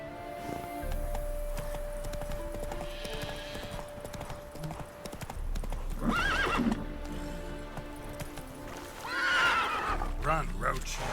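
A horse in the video game The Witcher 3 gallops with rhythmic clip-clop hoofbeats and lets out whinnying neighs, under background music and someone talking over the gameplay.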